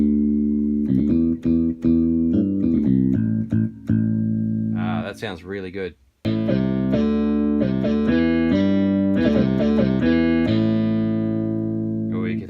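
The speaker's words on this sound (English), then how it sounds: "Guitar and bass playing on separate octaves, that's a really nice voice." A Yamaha EZ-30 keyboard plays a combined guitar and bass voice, transposed an octave down, as a melodic run of sustained tones with a brief pause midway. Someone speaks over the playing.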